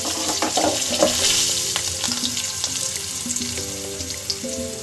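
Curry leaves sizzle and crackle in hot oil in a pan for a Telugu-style dried fish and egg curry, with steady frying hiss, stirring scrapes and a few pops throughout.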